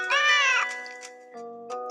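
A purple cat meow sound effect: one long drawn-out meow followed by a shorter second call, close and clear over a soft musical backdrop, with no talking.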